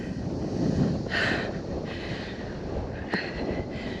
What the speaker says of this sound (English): She's pretty windy up here today.